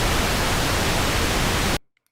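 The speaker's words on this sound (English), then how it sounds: "I would pick here in sample B loops the pink noise." A loud, steady pink-noise sample loops inside the Punch-2 software synth, a dense, even hiss that cuts off abruptly after nearly two seconds, leaving near silence with a faint click.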